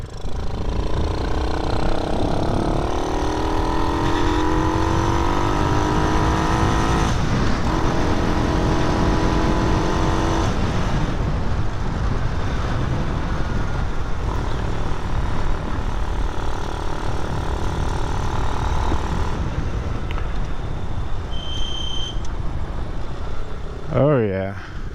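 A Grom clone motorcycle engine fitted with a Nibbi carburetor runs loud and steady, revving through rising and falling gears with a buzzing single-cylinder drone, close up for the whole stretch, ending in a few sharp mechanical clicks.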